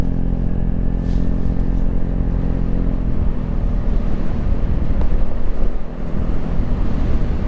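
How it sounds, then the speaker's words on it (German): A Vespa GTS 300 HPE scooter fitted with BGM shock absorbers rides over cobblestones, giving a continuous loud low engine drone with rough rumbling and wind buffeting and no speech. "Fahren wir mal Kopfsteinpflaster nochmal zurück."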